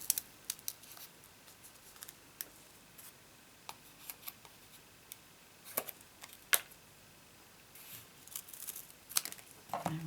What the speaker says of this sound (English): I just use my scissors and cut a piece